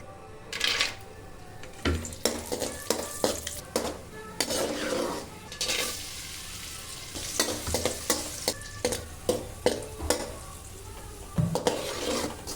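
Ingredients for kesari, a sweet dish, are sautéed and stirred in a pan with repeated clinks and scrapes of a spoon against metal over a light sizzle, close and uneven in rhythm.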